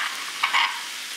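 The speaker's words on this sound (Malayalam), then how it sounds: "ടേബിൾ സ്പൂണിലേക്ക് നമ്മൾ ചതച്ച വെളുത്തുള്ളിയും കുഞ്ഞുള്ളിയും ഇടുന്നു." Crushed garlic and shallots fry in butter with a soft, close sizzle. A couple of quick stirring scrapes land in the middle of a very short moment.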